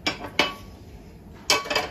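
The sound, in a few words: appe pan being set down on the stove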